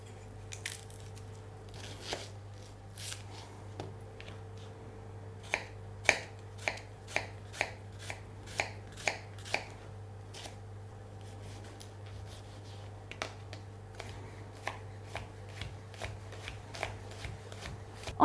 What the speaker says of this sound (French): épluchez et ciselez finement une échalote